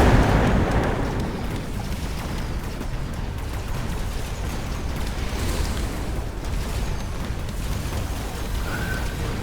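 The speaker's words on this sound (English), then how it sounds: "And he drops the incendiary." A loud, sustained explosive roar with crackling bursts as an incendiary drops in the Mechabellum strategy game, a dense rumbling wash that holds steady for several seconds.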